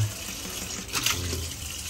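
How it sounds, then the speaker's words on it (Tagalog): Water is poured into a cooking pot holding tuna fish, simmered in coconut milk. It is a short, steady splashing gush that rises briefly partway through. "Lalagyan natin ng tubig."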